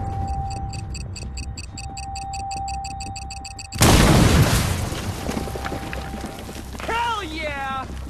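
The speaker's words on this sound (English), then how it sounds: "Tell Chief Mathis to blow it in place." Ordnance blown in place explodes in the Battleship video game, one sudden loud blast after steady ticking, followed by a long rumbling decay with debris and game sounds as a voice speaks.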